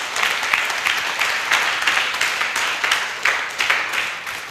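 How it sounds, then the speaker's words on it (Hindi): Loud, dense applause from a large audience at a motivational business event, a steady wash of many hands clapping with rhythmic swells throughout, no voices over it. "तो जोरदार तालियां होनी चाहिए।"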